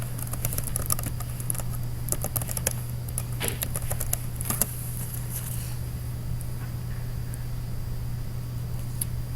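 Computer keyboard typing during a login, a quick run of light clicky keystrokes for the first half, then sparser, over a steady low electrical hum.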